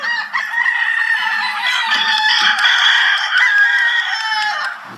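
Many roosters crow at once in a compound lined with a wooden fence, a dense, loud, overlapping chorus of crowing that carries on without a break, with occasional clucks underneath.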